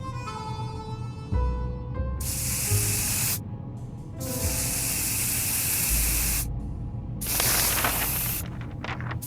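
Bug spray hisses in bursts in the survival video game 60 Seconds: several loud, broad spray blasts separated by short gaps, layered over a tonal game music bed.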